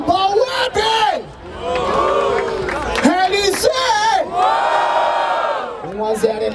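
A crowd at a Brazilian hip hop rap battle in Barueri, São Paulo, cheers, whoops and shouts loudly together in close, continuous waves of voices.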